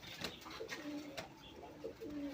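A Bombay Indian pigeon coos several times in soft, rolling phrases, fairly faint against a quiet background.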